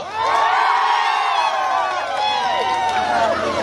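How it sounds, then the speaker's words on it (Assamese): A crowd at a stage show for a Bhogali festival event cheers, whoops and shouts loudly and continuously, many voices overlapping into a sustained roar of excitement. "সুন্দৰ হাত চাপৰিৰে আজি এই অনুষ্ঠানটো আগুৱাই নিবলৈ সহযোগ কৰক আৰু অকণমান জোৰে চিঞৰিলে ভাল লাগিব"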